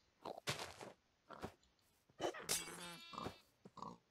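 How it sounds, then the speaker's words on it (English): Pigs grunting and oinking in the Minecraft video game, several short bursts in quick succession, a couple of them louder with a squealing tone, fairly close and heard without any talk. "Oh, lots of pigs."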